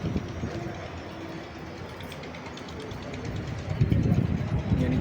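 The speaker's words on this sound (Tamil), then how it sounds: "அதான் ட்ரெயின் பக்கத்தில் வருது" Train on a trial run across the new Pamban railway bridge, a low rumble drawing nearer and swelling louder toward the end, with wind noise over it.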